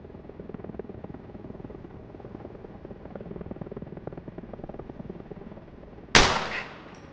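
A helicopter hovers overhead in the video game Arma Reforger, a steady rhythmic rotor chop at moderate distance, then a single loud sharp gunshot near the end with a brief ringing tail.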